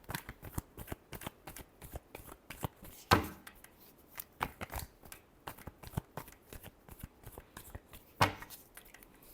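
A deck of tarot cards is shuffled by hand at close range, a rapid run of dry riffling snaps and flicks with two louder slaps, and no talking over it.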